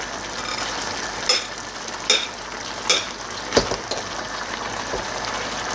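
A utensil stirs and scrapes through seafood paella with boiled rice in a pan, a few distinct scraping knocks rising over a constant low sizzle, with no one talking.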